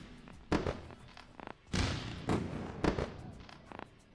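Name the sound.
fireworks sound effect played on live stream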